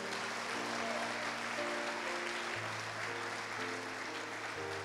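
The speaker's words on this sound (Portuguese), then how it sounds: "Aplaudiu Jesus aí, irmão." Applause from a church congregation fills the room as a steady, dense wash, with sustained keyboard chords held underneath and shifting pitch throughout.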